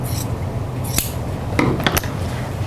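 Scissors snipping through 100% cotton thread during quilt piecing, a few short crisp cuts standing out over a low steady background hum.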